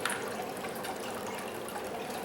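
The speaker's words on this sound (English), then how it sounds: "Just pouring off the solution without getting any of those" Chemical solution pours steadily off a batch of trimmed gold-plated circuit board fingers during gold recovery, a continuous close liquid stream with no talking.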